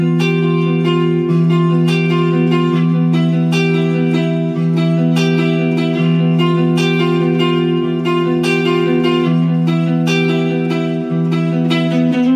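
Electric guitar arpeggiating an Em7b9 chord, then moving to a plain minor chord in a Phrygian vamp, with clean, sustained, ringing notes and a touch of reverb, loud and steady with no talk.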